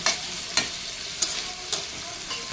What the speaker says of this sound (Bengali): দেখেন কি সুন্দর করে মাংসটা রান্না করা হইতেছে